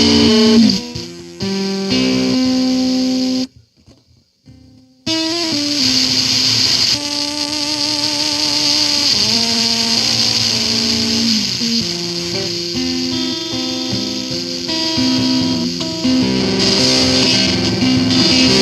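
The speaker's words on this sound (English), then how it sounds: "Turn the dry-wet mix knob counterclockwise, and hear the wavetable, sample rate, and bit depth effects mix with the post-preamp sound." Harsh digital distortion from a WMD Geiger Counter Pro pedal, its wavetable, sample-rate and bit-depth effects crunching a synth-like tone into buzzy, gritty textures, with a brief dropout to near silence before the distorted sound resumes.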